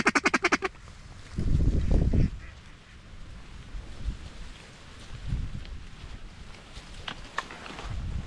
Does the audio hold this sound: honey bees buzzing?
no